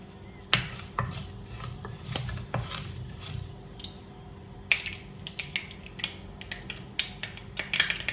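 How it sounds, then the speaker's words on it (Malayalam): Mustard seeds splutter in hot coconut oil in a home kitchen as a curry tempering begins, with scattered sharp pops and crackles over a low sizzle, some bursts clustered close together, and no talking. "അപ്പോൾ കടുക് പൊട്ടിയിട്ടുണ്ട്"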